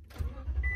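A Toyota Tundra pickup truck engine cranking and catching, a brief low rumble that swells and settles into idle, with a faint electronic chime rising near the end.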